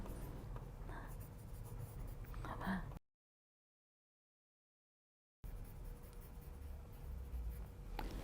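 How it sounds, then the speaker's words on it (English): Pen scratches on paper as a clothing measurement is written down by hand for a dress pattern, faint and close, stopping for a silent gap before resuming. "I'll write the measurement down."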